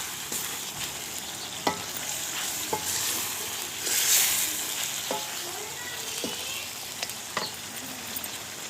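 Desi chicken karahi stirred in a pan after Kashmiri red chilli, turmeric and dry coriander go in, a steady sizzle under scattered scraping strokes of a spoon, with one brief louder hiss swell midway.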